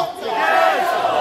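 A crowd at a Republic Day cultural celebration shouts a slogan in unison, a loud sustained chorus of voices.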